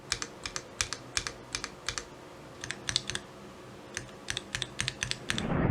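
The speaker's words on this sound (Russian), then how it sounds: "А теперь давайте проверим, как работает стабилизаторы на данной клавиатуре." Crisp, clacky Dareu A84 Pro mechanical keyboard keys pressed in quick steady bursts, close up, with brief pauses between runs of keystrokes, testing the stabilizers.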